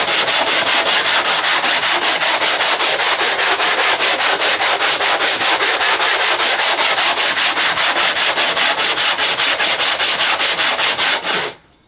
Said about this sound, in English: just sand it back and forward, and count how many strokes you're giving it